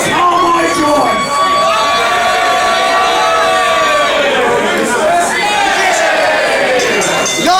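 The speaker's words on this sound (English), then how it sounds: "You're cheering for this!" Loud wrestling crowd at an English indie show roars and chatters continuously, with shouts and whoops rising and falling over a dense, close crowd wash, and voices talking over it.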